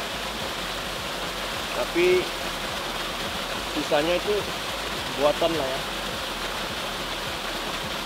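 Spring water from a mountain pours out of a spout at a village bathing spot, making a steady moderate splashing rush. A voice speaks briefly over it a few times.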